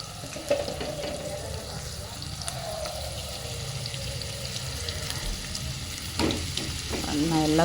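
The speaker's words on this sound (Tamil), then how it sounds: "இது நல்லா ஃப்ரை ஆகட்டும். நல்லா கோல்டன் ப்ரௌன் வர வரைக்கும் ஃப்ரை பண்ணுங்க." Cauliflower pieces for gobi manchurian fry in hot oil, giving a steady bubbling sizzle with occasional stirring scrapes and a brief splash of running water near the end.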